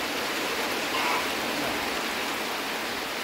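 Rain falling steadily as a dense, even hiss at moderate level, continuous and unbroken, with no voices.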